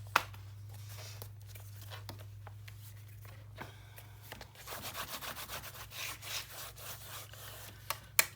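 A tool rubs back and forth to burnish paper pieces onto cardstock for a mini album page, close scratchy strokes that turn into a rhythmic series of rubs after a quieter start, with a couple of sharp taps.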